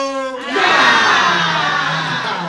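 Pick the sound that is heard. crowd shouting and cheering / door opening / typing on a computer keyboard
crowd shouting and cheering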